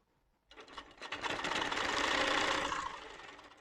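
A Pro-Stitcher Lite computerized quilting machine starts up after a short quiet moment and stitches at a steady, fast rattling pace, close and fairly loud, easing off slightly at the end.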